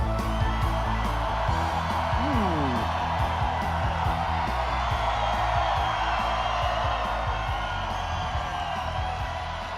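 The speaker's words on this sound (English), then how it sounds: "What a crowd!" A large crowd at a Des Moines, Iowa political rally cheers and whoops continuously, loud and sustained with shouts rising above it, as a voice speaks over the noise.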